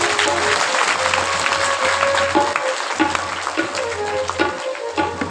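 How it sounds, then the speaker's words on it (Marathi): Audience applause at a religious gathering, a crowd clapping for themselves in steady, dense rhythm, with faint sustained tones and background murmur beneath. "एकदा सर्वांनी टाळ्या वाजवा बरं स्वतःसाठी"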